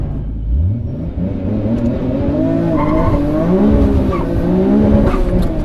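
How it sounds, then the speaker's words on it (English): An all-wheel-drive car doing a burnout, its engine revving in a steady rising drone with tires spinning and squealing continuously throughout, loud and close. "that thing was just doing a burnout"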